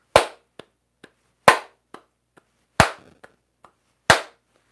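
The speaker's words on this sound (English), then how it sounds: "I tried to clap them all exactly the same so you couldn't tell." Four identical sharp hand claps with no accents, evenly spaced and close, each followed by fainter claps or echoes between them, suggesting a steady triple meter.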